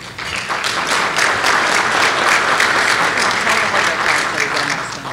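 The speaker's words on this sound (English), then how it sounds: "Just go ahead and hold your applause till we're all done" An audience at an event claps steadily for committee members being introduced, a dense, loud, sustained round of applause that holds for about five seconds before easing slightly.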